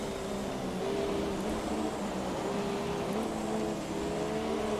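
F1 2017 race car engine during a rainy race in China, a steady loud droning whine with shifting tonal pitch, overlaid with a continuous glitchy static hiss that masks the engine throughout.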